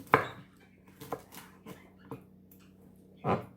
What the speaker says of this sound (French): on coupe le reste des céleris en petits cubes